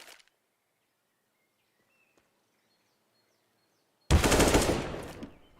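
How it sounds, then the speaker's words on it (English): Rapid burst of automatic gunfire in a first-person shooter video game, loud and close, arriving suddenly after near silence and trailing off over about a second and a half. "Quick headshot from Oxygen."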